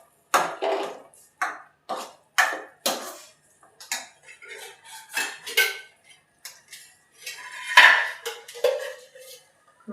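A spoon stirs chikoo halwa of milk, milk powder and cardamom in a pan, giving a steady series of close, clinking metal scrapes and taps repeated in an uneven rhythm, with no talking.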